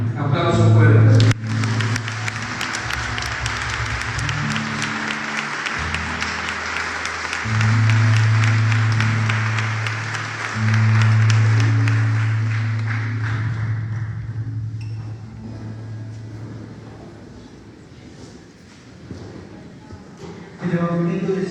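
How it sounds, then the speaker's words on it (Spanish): Loud, sustained applause from a church congregation during a parish retreat, steady dense clapping that swells and fades over about twenty seconds before a voice briefly returns at the end. "Aplausos fuertes."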